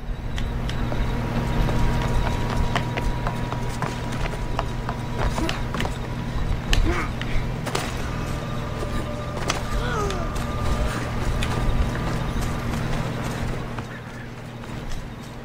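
Horse hooves clip-clop in a video game, a steady trotting patter under game music and ambient sound, with someone talking over it.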